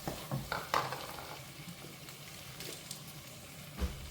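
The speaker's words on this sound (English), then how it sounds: "Stir and allow it to fry." Chopped tomatoes fry with a soft steady sizzle in a pot for a beans and yam potage, with a few scraping stirs and light clinks near the start and another knock near the end.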